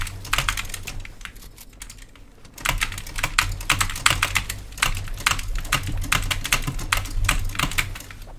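Rapid clacking keystrokes on a SteelSeries Apex Pro TKL mechanical keyboard, close and crisp, in steady bursts with a short pause before typing resumes, no voices over it.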